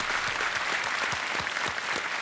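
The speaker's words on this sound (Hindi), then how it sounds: "तालियों के साथ इनका स्वागत" Loud, dense applause from a studio audience welcoming a guest on a Hindi television show, steady and close throughout with no speech over it.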